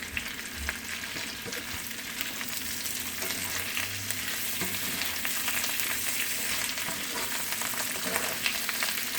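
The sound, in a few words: mushrooms, onions and bacon frying in a pan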